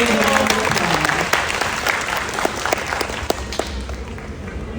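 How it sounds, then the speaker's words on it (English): An audience claps warmly at a hot glass demonstration, dense applause with scattered sharp claps that slowly thins out, with some voices mixed in. "We need to say the nice big round of applause."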